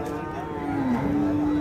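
A large heavy-milking buffalo at a rural livestock market lets out a low, drawn-out moo, close and fairly loud, sustained through most of the short moment with faint background chatter.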